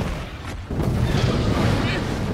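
Cannon fire in the Sand Land video game: a heavy, rumbling boom and blast that rolls on continuously, with a voice speaking over the din.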